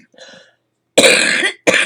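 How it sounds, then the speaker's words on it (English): An adult coughs: a faint throat sound, then two loud, close, harsh chesty coughs in quick succession, with no talk. "I'm still left with a chesty cough."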